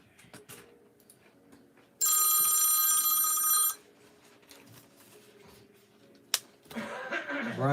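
A loud electronic telephone ring sounds in one continuous burst of about two seconds, standing out over quiet room noise and a few soft knocks.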